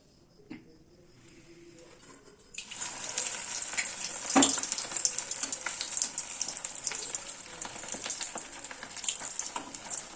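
Steady, loud sizzling of bread pakoras frying in hot oil, kicking in after a short quiet start and crackling continuously to the end.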